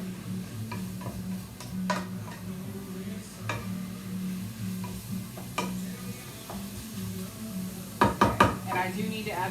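Butter and taco-seasoned ground beef sizzle in a pan for keto zucchini tacos, a low frying crackle under a steady hum, with scattered spatula taps and a quick burst of clatter near the end.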